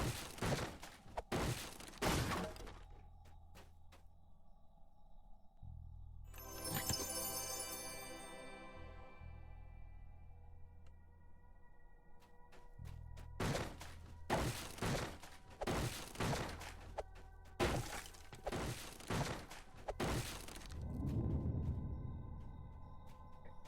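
Weapon crates are smashed apart in Dungeons & Dragons Online, a run of sharp cracking breaks and thuds in quick bursts with a ringing shatter midway, then more rapid splintering hits.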